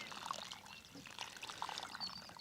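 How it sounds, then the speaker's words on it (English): Potted herb cuttings being watered generously in a polytunnel, a soft continuous pour and trickle into soil that stays fairly quiet and unbroken throughout. "So I'm giving it a really good water and I'm going to allow that to soak through."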